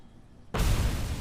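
A landmine blast in the video game Robocop: Rogue City, erupting suddenly after a quiet moment into a loud, sustained broadband boom with a heavy low-end rumble and no voices over it.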